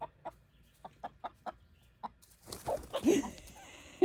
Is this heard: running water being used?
no